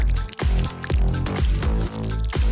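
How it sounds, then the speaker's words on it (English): Dark hot glue drips onto a small handmade figure, giving a quick run of wet, squishy drips in an irregular rhythm, close and fairly loud with no voices. "Drip on some dark hot glue."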